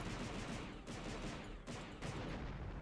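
Shooting in the game Star Wars: Shadows of the Empire, a dense, noisy blasting texture with a few short breaks between bursts, steady and fairly loud throughout, no talking.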